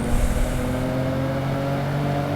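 Race car engine in Project Gotham Racing 2, driving head-to-head against a Ferrari 275 GTB on a rainy Edinburgh track, a steady loud engine drone with a brief rev at the start, alone without talk.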